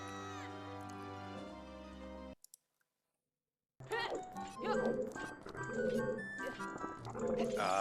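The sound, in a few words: Ocarina of Time randomizer game audio with female Link sounds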